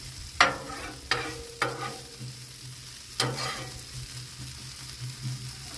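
Potatoes and onions frying on a flat Blackstone griddle, with a steady sizzle broken by four sharp spatula scrapes and taps against the metal surface.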